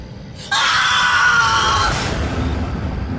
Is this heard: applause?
no